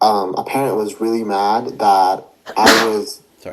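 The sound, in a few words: sneeze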